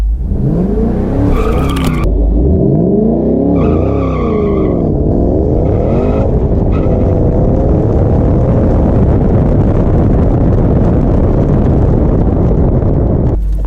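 Shelby GT500 on MT ET Street drag race tires, loud engine revving with rising and falling pitch from about 3,000 RPM, then a hard launch that becomes a sustained roar with broad tire and wind noise.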